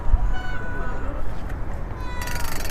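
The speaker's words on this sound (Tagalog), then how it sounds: "tumatawag yung pusa. Nagtatawag." A cat meows a few times amid windy outdoor noise, fairly close, with no clear talk over it.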